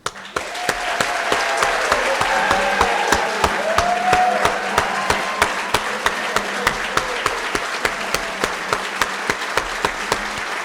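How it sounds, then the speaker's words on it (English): Audience at a memorial tribute in an event pavilion clapping steadily for about ten seconds, a full even roar of applause punctuated by regular sharp claps close to the microphone. "join me in giving him a well-deserved applause"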